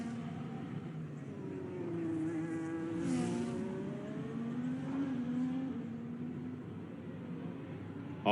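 In a racing video game, a race car laps the Spain track during qualifying. Its engine drones faintly and steadily, and the pitch rises and falls with shifts and throttle changes.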